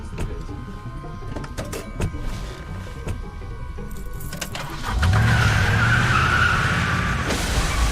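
A car in a Walking Dead video game skids and drives off, with clicks and rattles first, then a loud sustained tire screech and engine surge from about five seconds on.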